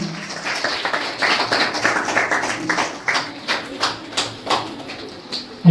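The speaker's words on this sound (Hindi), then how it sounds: "मैं चाहता हूं कि उनका भी जोरदार ताली से हम लोग स्वागत करते हैं।" Applause welcoming a guest at a school retirement ceremony: a crowd claps in a dense patter of many hands that swells and then thins over several seconds, with a voice heard faintly.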